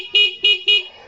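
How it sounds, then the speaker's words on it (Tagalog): The stock horn on a Barako 175 motorcycle beeps three times in quick succession, short bright buzzing honks, close and clear with brief gaps between them. "Tapos stock horn,"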